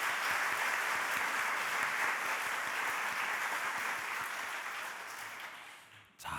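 Congregation applauding in a church service to welcome newcomers, a steady broadband wash of clapping that holds throughout and fades near the end.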